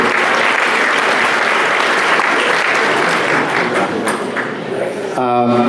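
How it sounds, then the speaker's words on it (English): A crowd at a Filipino American History Month celebration in Vallejo, California applauds a mayor with dense, sustained clapping that fills the room, then a voice briefly emerges at the end. "I encourage you to applaud our mayor"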